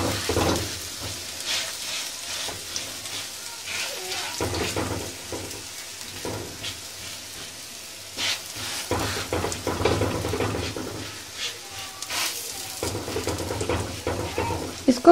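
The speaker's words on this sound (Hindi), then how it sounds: "इसको मीडियम आंच पे हम पका रहे हैं।" Makki ki roti, a Pakistani corn flatbread, cooks on a pan over medium heat with a steady low sizzle and occasional soft scraping and handling sounds, close and fairly quiet throughout.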